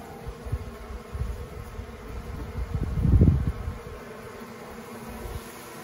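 Honey bees buzz at an open long hive during a nuc install, a steady low hum that swells louder near the middle as the frames are worked, then settles back.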